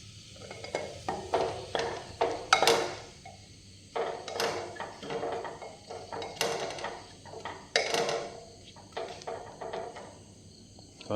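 Chicken curry is stirred in a pressure cooker, with a close series of metallic scrapes and clinks from a spoon against the pot, arriving in irregular clusters with short pauses between them.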